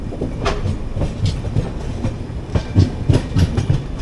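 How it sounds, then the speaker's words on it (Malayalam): Ernakulam–Tatanagar Express rolling into Irikkur station, a steady low rumble of wheels and carriages with rhythmic clickety-clack over rail joints, heard from inside the train with no talk. "ഇപ്പം നമ്മൾ ജസ്റ്റ് ഇരിക്കൂർ സ്റ്റേഷനിലോട്ട് കയറുന്നു."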